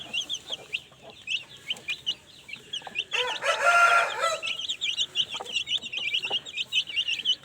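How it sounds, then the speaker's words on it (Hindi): Backyard family flock with a rooster crowing one long loud call in the middle while hens and chicks cluck and peep steadily around it, close by, no talking. "जो चूज़ों का बाप है वो भी दिखाते हैं आपको, वो अजाने दे रहा है वो।"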